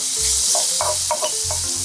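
Heaped spoonful of minced garlic sizzling and frying in about two spoonfuls of oil in a hot pan, a steady loud crackle with several stirring scrapes, for a Korean stir-fried anchovy side dish.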